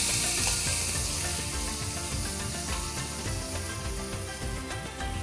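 Whole cloves, cinnamon, bay leaves and green cardamom with shahi jeera sizzle in hot oil, a dense, steady close-up hiss with faint crackles and no talk.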